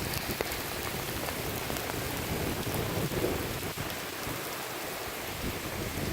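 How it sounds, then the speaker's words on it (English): Heavy rain pours steadily during a thunderstorm, a dense continuous hiss with low thunder rumbling beneath it, loud and close throughout with no voices. "You can see how much it's raining right now."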